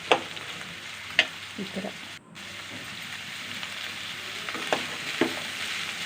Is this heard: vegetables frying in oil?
yes